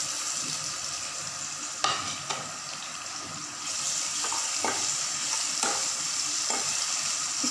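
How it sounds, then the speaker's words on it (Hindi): Onions fry and sizzle in a kadhai with green chillies and curry leaves, a steady hiss broken by occasional sharp scrapes of a stirring spoon, close and alone. "इसको ब्राउन होने तक अच्छे से भून लेते हैं"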